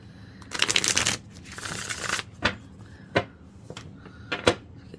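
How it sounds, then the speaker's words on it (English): Tarot cards being shuffled in two quick riffling bursts, followed by several sharp, separate taps and snaps as the deck is squared and cut, close and clear with no talking. "Get this shuffled out and see what's up."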